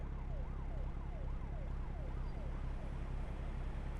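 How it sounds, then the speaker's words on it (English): An emergency vehicle siren heard from a car on Route 66 wails in a steady, repeating rise-and-fall sweep through a loud engine and road rumble, distant rather than close. "I keep hearing sirens"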